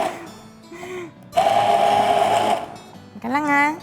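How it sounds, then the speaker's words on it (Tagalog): A kitchen blender whirs loudly for about a second while blending salsa, starting and stopping between short bursts of someone talking nearby. "Let's blend it."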